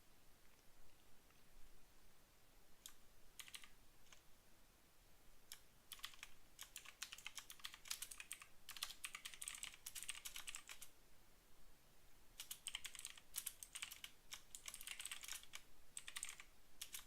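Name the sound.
typing on a computer keyboard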